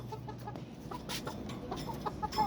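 A Yellow Pit gamefowl rooster clucks nearby in a backyard pen, with several short soft clucks over a low background murmur.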